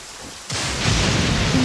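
Thunder rumbles in the video game Genshin Impact, starting with a sudden broad crack of a lightning strike, then a low, sustained rolling noise.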